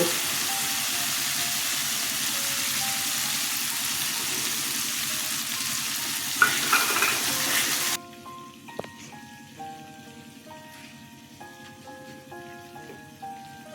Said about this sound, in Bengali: পেঁয়াজটা কষানো হয়ে গেছে দেখুন এবার বাকি মশলাটা দিয়ে দেব